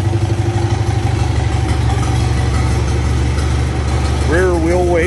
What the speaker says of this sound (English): He's got that idle set perfect on there. I mean, that's an idle.